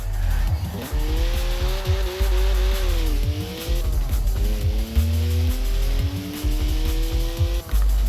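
A twin-turbo 3-litre straight-six of 335 horsepower drifting in Forza Horizon 4: a loud engine revs and swings in pitch while the tyres squeal and skid almost continuously through long sideways slides, close up.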